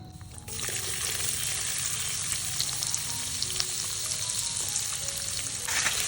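Finely chopped onions sautéing in a pan over a wood-fired chulha with curry leaves, a steady bright sizzle running continuously after a quieter start, with faint stirring scrapes and no talk.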